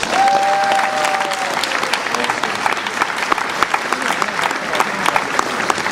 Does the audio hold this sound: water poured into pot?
no